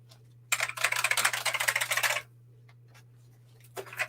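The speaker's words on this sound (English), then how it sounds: "Sold a clicky keyboard." Keys on a clicky mechanical computer keyboard clatter in a fast, dense burst of typing lasting under two seconds, followed by a few scattered clicks and another short flurry, all up close over a low steady hum.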